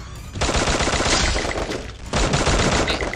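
Rapid automatic AK assault rifle fire in Free Fire, loud and close, rattling in dense sustained bursts with a brief pause before the shooting resumes.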